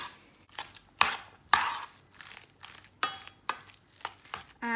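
A big spoon mixes egg into cottage cheese in a bowl, making a handful of close, separate scraping knocks spaced about half a second apart, with no talking.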